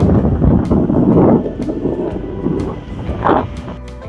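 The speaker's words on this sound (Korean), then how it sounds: "바람 진짜 너무 불어요. 너무 불어. 엄청나게 붑니다." Strong March wind roars and buffets on Seonjaryeong mountain, loud and close with gusty surges, rumbling heavily against the microphone and fluttering throughout.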